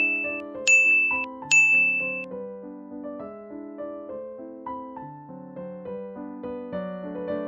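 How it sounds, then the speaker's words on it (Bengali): A cartoon doorbell rings twice in quick succession, bright chiming tones over a gentle melodic music bed that continues afterward, with no talking. "এই কথাটা যখন বলছে তখনই কলিং বেল বেজে ওঠে।"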